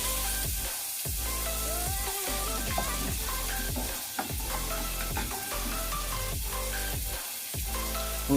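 A spoonful of butter sizzles in a pan at the start of a masala oats recipe, a loud, steady frying hiss close by, broken by repeated swishes of stirring and no talk.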